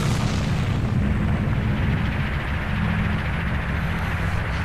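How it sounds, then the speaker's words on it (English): Deep, continuous rumbling from an earthquake in the video game The Legend of Zelda: Ocarina of Time, a loud low roar with a shaky, booming texture that holds steady throughout. "Whoa, earthquake!"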